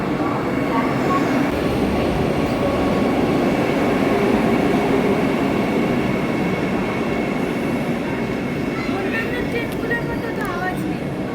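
A Howrah–Puri train rumbles along steadily, loud and close, with rattling wheels and a brief squeal near the end; voices murmur faintly underneath.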